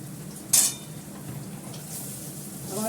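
Bitter gourd (karela) frying in a pan, a quiet steady sizzle with one sharp utensil clink against the pan early on, close and without talk.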